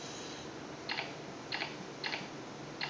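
A multitouch onscreen keyboard drawn in HTML5 canvas gives a short synthetic audio click for each touch. Four crisp clicks come at uneven intervals over a faint steady background hiss.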